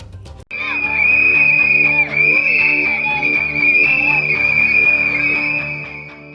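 Schoolchildren in Simdega, Jharkhand, blow whistles together in a loud, sustained shrill chorus lasting several seconds, with a crowd murmur beneath.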